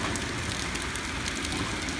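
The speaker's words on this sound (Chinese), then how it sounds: "你看这雨蛮粗的" Heavy rain falls at a cave mouth on Orchid Island, a loud, dense, continuous patter and hiss with no pause or voices over it.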